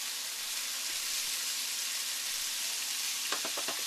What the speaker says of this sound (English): I'm going to hit it with some wine,